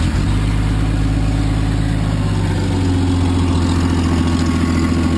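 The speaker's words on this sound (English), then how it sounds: "it has manifold gasket leak, and then the header itself has a leak in it, and the exhaust" A 1994 Jeep Grand Cherokee idles with a leaking exhaust manifold gasket and cracked header, a loud steady rumble with a rough, ticking undertone, close by and alone.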